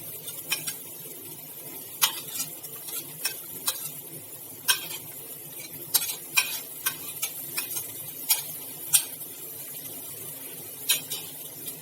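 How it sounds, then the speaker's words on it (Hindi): Carrots, peas, onion, ginger and garlic are stirred and sautéed in a pan, producing a soft steady sizzle broken by scattered, irregular clinks and scrapes of a utensil against the pan, fairly faint and close. "थोड़ा सा भुनेंगे जब तक कि प्याज थोड़ा सा हल्का गुलाबी नहीं हो जाता, तब तक हम इसको धीरे धीरे चलाते हुए भूनेंगे"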